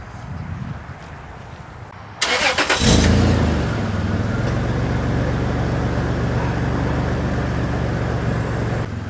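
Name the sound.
supercharged 2001 Toyota 4Runner engine revving, Dynomax VT muffler exhaust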